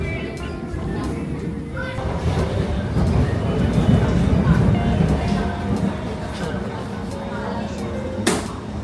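A train rides through Singapore with a low rumble and rattle beneath people talking nearby, ending with a brief sharp clack.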